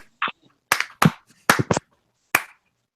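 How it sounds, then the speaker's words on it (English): A few scattered hand claps in short irregular bursts, close and sharp, from a small group rather than a full audience, with silence between them. "I think we got a round of applause for being wicked on that one"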